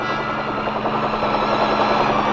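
Steady, dense rotor and turbine roar of a large Chinook military helicopter in flight during Vietnam-era air mobility operations, continuous and loud without pauses.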